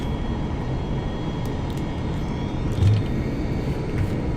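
A jet flying low in the Flight Simulator X video game, heard as a loud, continuous engine roar and rumble that swells slightly partway through.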